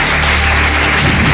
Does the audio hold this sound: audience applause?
yes